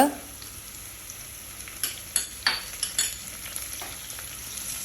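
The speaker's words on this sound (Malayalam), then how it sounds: "ഇതൊക്കെ കൂടെ നന്നായിട്ട് ഒന്ന് സോട്ട് ചെയ്യുക ഇതൊന്ന് മൂത്ത് വരുന്നവരെ സോട്ട് ചെയ്യണം" Green chillies and curry leaves sautéing in hot oil for a green apple pickle, a steady close sizzle with a few sharper scraping stirs near the middle, no voices.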